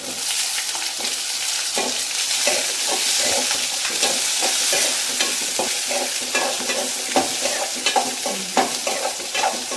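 Onions sauté in a pan for tomato rice, a loud close sizzle running steadily the whole time, with frequent light scrapes and taps of a spoon stirring through them.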